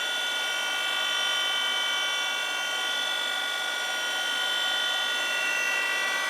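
A CNC machine takes a final light skim cut on a rotary engine port. A steady, high mechanical whine with a constant hum runs unbroken and close, with no talk.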